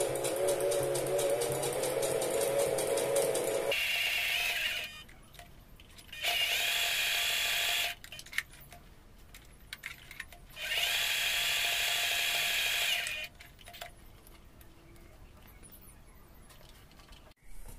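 A sewing machine stitches decorative lines in gold thread on a Christmas table trivet, running in three loud, even bursts of rapid mechanical whirring separated by quiet pauses filled with light handling clicks.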